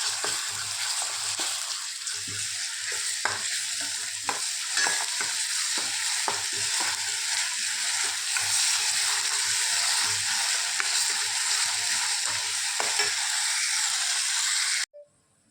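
Ginger garlic paste frying in a pan for a mushroom dish, a constant close sizzle with intermittent scrapes and taps of a spoon stirring, ending abruptly near the finish, no voices.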